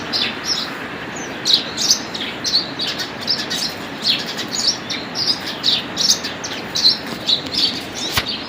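Sparrows chirp outdoors in the early morning, their short bright calls repeating every second or so over a steady background hiss, with occasional wing flutters.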